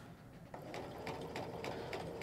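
A sewing machine sews a 3/8-inch straight stitch on fabric for pull-on pajama pants; the needle starts after a brief pause and then chatters in a quick, even, close rhythm.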